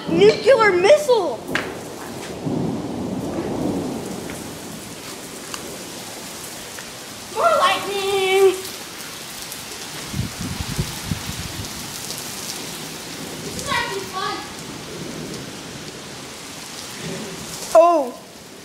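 Heavy rain pours steadily through a Colorado thunderstorm, a broad continuous hiss with sharp cracks of lightning and thunder near the start and end, while people talk and exclaim over it.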